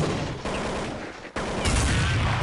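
Counter-Strike 1.6 gunfire comes as a loud, dense burst of rapid shots that runs nearly the whole time, with one short break before the firing picks up again.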